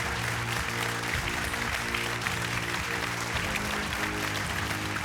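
Applause from the audience at a classical music competition semifinal carries on under loud sustained music, a continuous clapping texture lasting several seconds.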